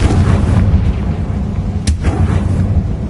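Hogwarts Legacy's Confringo spell bursts in a deep, rumbling explosion that fills the short moment, loud and dense, with a brief sharp crack partway through.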